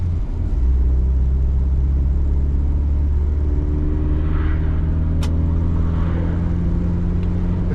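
A 1993 Volvo 240 with a 4-cylinder engine accelerates hard from a standstill toward 60 mph, its loud droning engine note climbing steadily through the gears with road rumble heard from inside the car.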